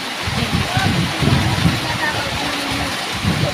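Dense, steady rain hisses and splatters close by in a farm field, with low rumbling gusts underneath and no clear voices.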